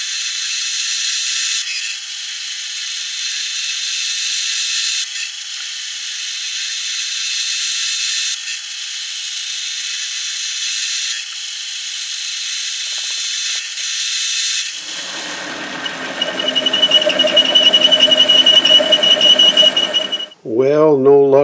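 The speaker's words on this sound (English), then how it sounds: "this seems like it's just rubbing metal. It's not really cutting." A carbide lathe tool rubs against a metal workpiece on a lathe without cutting, giving a steady piercing high-pitched squeal that runs continuously, then turns into a harsher grinding whine near the end, loud and close.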